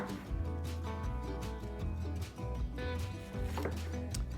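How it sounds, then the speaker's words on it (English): A knife cuts a vegetable into quarters for a potato-less potato salad, with several close, firm chops on a cutting board spaced about a second apart. "Let's cut it in quarters."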